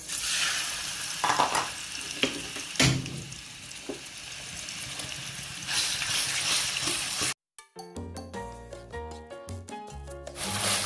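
Pork frying in a wok for garlic fried rice, a loud crackling sizzle with scraping stir strokes and spatula knocks, cut off abruptly and followed by music.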